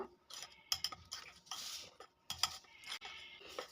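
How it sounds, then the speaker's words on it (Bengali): Spoon clinks and scrapes against a bowl while Eno is mixed into biscuit sponge cake batter, a series of close, irregular metallic taps and swishes with short pauses in between. "ইনোটা দেওয়ার পরে খুব ভালো করে আবারও মিশিয়ে নেবো"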